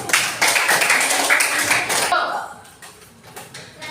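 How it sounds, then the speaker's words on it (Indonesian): A classroom group claps for a short burst, then the clapping thins into a few scattered taps and some background voices. "Tepuk tangan untuk kelompok."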